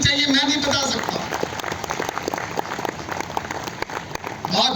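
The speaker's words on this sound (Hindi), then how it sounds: "तालियां होनी चाहिए कि नहीं होनी चाहिए" An audience applauds at a Hindu New Year (Vikram Samvat 2082) stage event, a dense steady patter of clapping filling the whole stretch with a brief voice near the start.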